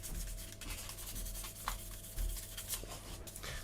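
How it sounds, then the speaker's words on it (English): Sandpaper rubs steadily across the surface of an Airfix Vickers Wellington Mk1 plastic model kit, a close, soft, continuous scratchy scraping with faint strokes and no talk. "Basically work your way through the grades of sandpaper, getting finer and finer, and then you'll get a nice smooth surface."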